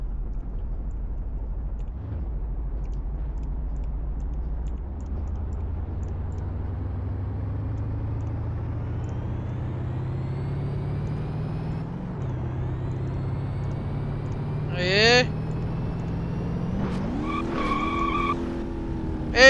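A 1963 Volkswagen Fusca engine in the BeamNG Drive video game climbs up a canyon, its drone rising steadily in pitch through the gears, with brief tire squeals and skidding near the end.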